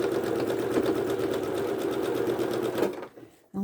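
Quarter-inch seam stitched across a vintage log cabin quilt block on a sewing machine, a steady close whirring run for about three seconds that cuts off, followed by a brief pause and a faint thump.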